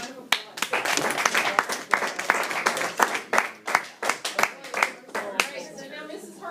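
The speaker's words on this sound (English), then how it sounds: "Give her a round of applause" Classmates in a chemistry class give a round of applause: sharp, close hand claps in an irregular burst that thins out near the end, with some talking over them.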